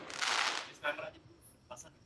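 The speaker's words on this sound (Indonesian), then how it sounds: "ada suara petasan. Ini mungkin selama kalian dengar ada suara ledakan." Firecrackers explode outside, giving a broad hissing burst followed by several sharp cracks and pops, moderately loud and a little distant.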